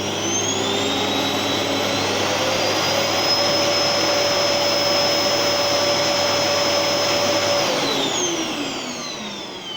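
A Gerer8 Power MAX 2000W vacuum cleaner runs loud and close on its high setting, a steady roaring whine with a sharp motor tone that holds, then winds down near the end.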